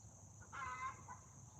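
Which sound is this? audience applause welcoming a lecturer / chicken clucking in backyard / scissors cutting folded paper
chicken clucking in backyard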